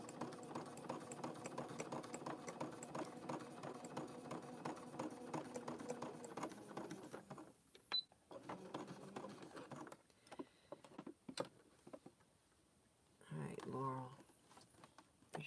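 Sewing machine running a wider stitch through coiled rope to build a rope bowl, a steady whirring that fills the first seven seconds, then stops and gives way to sparse handling noises with brief talk.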